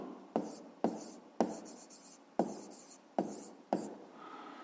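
A pen scratches on paper in six quick, evenly spaced strokes while a fifth-grade math solution is written by hand, close and soft, with no voices over it.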